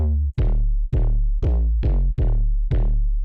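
Deep, booming 808 bass notes from the UVI Rumble bass synthesizer plugin hit six times in a steady rhythm, each with a sharp attack and long rumbling low tail, loud and alone.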